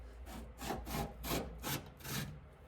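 A blade cutting through interior trim material in a 1966 Plymouth Belvedere, heard as about six regular rasping back-and-forth strokes, close but fairly quiet, with no talking.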